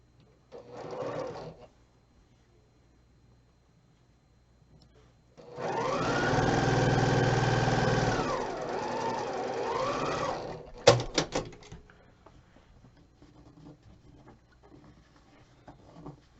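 A home sewing machine stitches quilt pieces together in one steady burst of several seconds, with its motor pitch dipping partway through. Short handling clicks of the fabric come before and after the run, and no one speaks.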